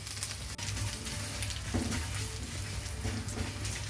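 Green chillies, dried red chillies and curry leaves frying in hot oil for Kottayam-style inji curry, a steady close crackling sizzle with small pops throughout.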